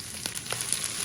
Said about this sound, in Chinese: 把韭菜随便给它翻一放几下就可以了